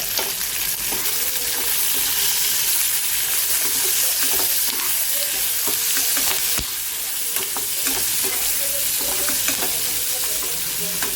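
Coarsely chopped ginger, garlic and green chillies sizzle in hot oil in a pan with onions, a loud, steady frying hiss broken by scraping stirs.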